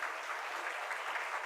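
An audience at a Jain religious discourse in Shirpur breaks into a brief, soft burst of steady clapping that sounds a little distant and continues on its own without any talking.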